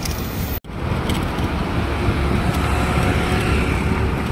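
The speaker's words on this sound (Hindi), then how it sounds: "रात के 1:30 बजे नरीमन पॉइंट पर इतना ट्रैफिक" Steady, loud road traffic at Nariman Point in Mumbai late at night, a continuous broadband roar of cars and engines with a brief dropout near the start and no talk.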